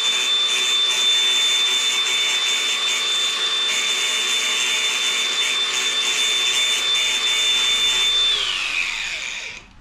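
An angle grinder fitted with a wire brush whirs at a constant high pitch against the mega-rusty rear subframe of a BMW E36 328i coupe, loud and close for nearly ten seconds before spinning down to silence.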